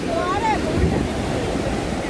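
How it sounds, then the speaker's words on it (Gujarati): Sea waves wash onto Dumas beach in Surat with a steady, broad roar of surf and wind buffeting the microphone, while faint voices carry in the background. "હા જુઓ કેવા મોજા આવી રહ્યા છે."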